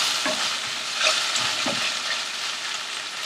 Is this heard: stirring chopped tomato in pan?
yes